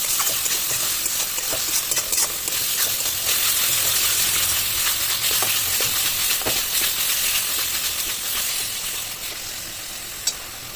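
A chicken kosha spice paste is stir-fried in a pan, with a dense, loud, steady sizzle and hiss. Faint scraping and stirring ticks sound throughout, and a single sharp clink comes near the end.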